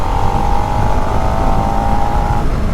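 A Suzuki SV650 motorcycle runs at around 4,000 RPM while being ridden, a loud, steady, close engine roar with a constant buzzing tone that drops away near the end.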